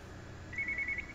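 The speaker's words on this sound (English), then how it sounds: "Oh, the phone." A telephone rings in the Portal 2 video game, a faint, brief electronic trill pulsing several times under a quiet background hum.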